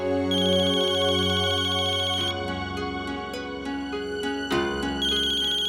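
An electronic phone ringtone plays loud and close, a repeating melodic tune that changes pattern partway through, with no voices.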